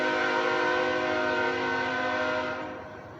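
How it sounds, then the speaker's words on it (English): A train horn blares in a long, steady, harmonic-rich tone with rail rumble beneath, loud and close, then fading out near the end. "That's a train in the back"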